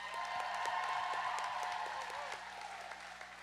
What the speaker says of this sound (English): I want to give a big round of applause to our officials and volunteers on skates and off.